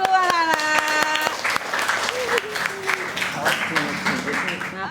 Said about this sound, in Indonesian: tepuk tangan dulu anak-anak